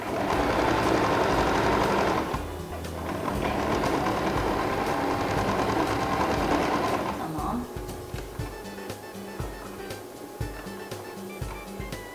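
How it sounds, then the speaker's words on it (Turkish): A sewing machine stitches a collar on a cape in rapid, loud whirring bursts, then stops. Lighter clicks and handling noises follow, with quiet talk under it. "benim yakaya şurada küçük bir dikiş geçmem gerekiyor"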